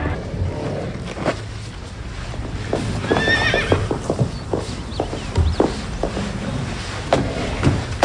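Horses whinnying and hooves clip-clopping in a stable yard, with a few neighs over a steady run of hoof knocks and faint fowl clucking in the background, no talk.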